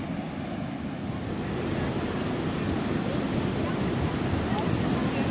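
The flooded Zharpat river in Chandrapur, running high over a bridge, rushes as a dense, continuous roar of turbulent water, loud and steady throughout, with wind buffeting the microphone.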